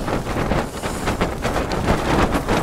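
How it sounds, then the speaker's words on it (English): Strong, cold wind gusts across a winter mountainside on Buachaille Etive Beag in Scotland, loud and close, with rough buffeting against the microphone and a continuous roaring rush that swells and dips without a pause. "It's really the wind's whipped up."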